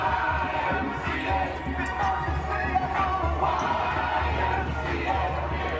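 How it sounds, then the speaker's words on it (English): Crowds celebrate Biden's win in city streets, heard as a steady, distant roar of many voices with scattered cheers and whoops. "people poured into the streets to celebrate, from Times Square to Denver to Miami to crowds in front of the White House"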